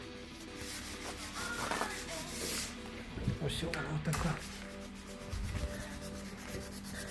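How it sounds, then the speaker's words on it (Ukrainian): Abrasive sanding pads rub over automotive filler and primer in repeated scratchy strokes that rise and fall in loudness, while a person talks over the work. "Шліфуємо такими мірловками, чи як вони там."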